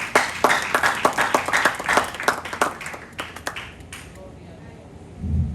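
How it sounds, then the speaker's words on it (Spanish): A church congregation claps for Christ in a run of sharp, uneven claps that gradually thin out and fade, followed by a low rumble at the very end. "Denle un aplauso a Cristo"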